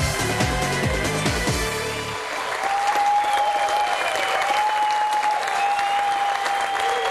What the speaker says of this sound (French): ce sont des acclamations qui accompagnent nos 3 candidats quittant le jeu